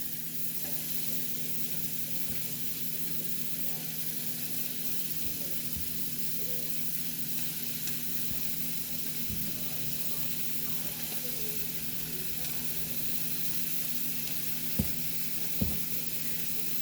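Potatoes tossed into a hot, lightly charred pan sizzle and hiss steadily at a fairly quiet level, with a couple of sharp knocks of utensil against pan near the end.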